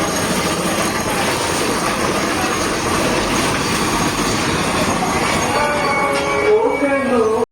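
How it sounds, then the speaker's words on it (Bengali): Vande Bharat Express train pulling out of a station, a loud, continuous rumble and rail clatter close by, with a rising wheel squeal near the end and faint voices mixed in. "বন্ধে ভারত বন্দে ভারত ডিপার্চার হয়ে গিয়েছে"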